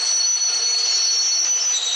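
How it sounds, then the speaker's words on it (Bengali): In a video game, a steady, high metallic squeal of train wheels as the train brakes to a stop, with a continuous rail rumble, loud and unbroken throughout. "এখানে আমি ট্রেনটা থামিয়ে দিচ্ছি।"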